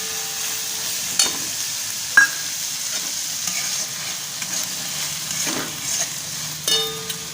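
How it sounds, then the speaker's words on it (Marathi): Jowar grains sautéing in hot oil in a pan while being stirred to soften them, a steady close sizzle and frying hiss broken by a few scraping knocks of the spoon, with no voices. "तेलातच घालून घ्यायचा म्हणजे जरासा परतल्यानंतर मऊ होतो"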